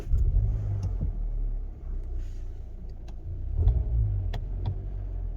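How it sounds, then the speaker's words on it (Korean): A Hyundai Grandeur IG engine turns over and settles into a low, steady idle rumble with a slight rise in revs, close by and without talk. "자 시동 걸고"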